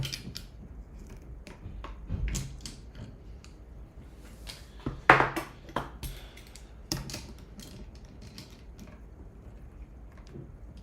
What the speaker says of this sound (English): This Allen wrench doesn't work very good.